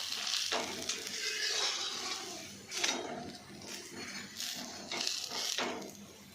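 Rava mixed vegetable paratha sizzles steadily on a pan over medium gas, a continuous broadband frying hiss with periodic louder bursts as it is pressed or turned, no voices present.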